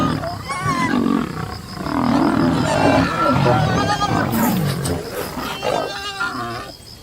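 Wild African lions roar loudly and close, with deep, repeated roars and grunts running continuously without a break.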